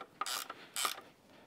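A 9/16 ratchet wrench tightening a fitting on a fishing bike build, two short close bursts of rasping clicks separated by a brief pause.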